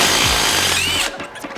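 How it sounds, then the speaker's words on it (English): A power tool whirs loudly for about a second, loosening a bolt on a Super Duty truck's differential cover, then stops abruptly, leaving faint clatter and handling noises. "So we're gonna go ahead and take this top bolt the rest of the way out now that the majority of the fluids come out."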